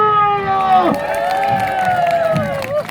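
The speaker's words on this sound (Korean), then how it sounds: "다같이 함성과 박수!" At a night-time lighting show performed by a pumba entertainer, the audience roars with sustained cheers and shouts over continuous clapping, loud and close throughout.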